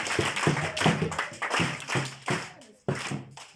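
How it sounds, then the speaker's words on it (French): A group of young children claps in a kindergarten class, a burst of uneven rhythmic hand claps in quick repeated pulses, close and lively, with some voices mixed in. "Acclamez très fort pour lui."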